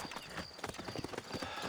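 Horse hooves clip-clopping in the Western video game Red Dead Redemption, a quick steady run of hoofbeats over a bed of ambient game sound.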